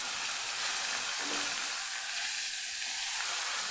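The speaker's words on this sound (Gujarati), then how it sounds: "પાંચ ચમચી જેટલી હિંગ મૂકશું અને આદું મરચાં લસણની પેસ્ટ ઉમેરી દઈશું" Steady, loud sizzling of ginger, green chili and garlic paste with asafoetida frying in hot oil, a dense crackling hiss filling the whole clip without any voices.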